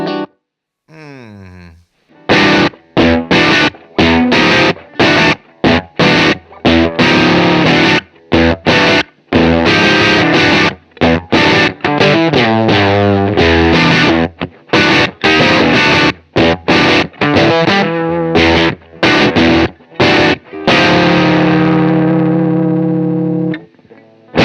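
Heavily distorted electric guitar through distortion effect plugins, riffing with choppy, stop-start chords and brief gaps, loud and dense, ending on a sustained ringing chord.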